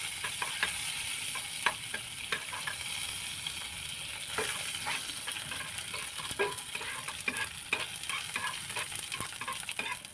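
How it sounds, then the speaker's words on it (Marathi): Sesame seeds and cumin frying in ghee, a continuous bright sizzle with scattered sharp crackles and pops, near and steady, no talking. "तर यामध्ये मी घालणार आहे तीळ आणि जिरा. तुपामध्ये व्यवस्थित परतून घ्यायचं आहे."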